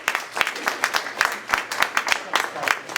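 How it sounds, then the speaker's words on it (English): A small group at a city budget meeting claps for a presenter, giving distinct, closely spaced claps in a brisk, fairly regular rhythm, close and moderately loud. "Can I have a round of applause for Kevin?"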